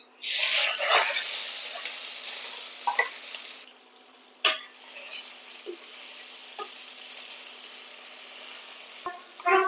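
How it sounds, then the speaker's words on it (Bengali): Chopped tomato and green chilli frying in spattering oil, a loud crackling burst at first that settles into a softer steady sizzle, with a few sharp spoon or pan knocks along the way. "ফোড়ন হয়ে গেছে, দিয়ে দেব টমেটো কুচি আর লঙ্কা, কাঁচা লঙ্কা।"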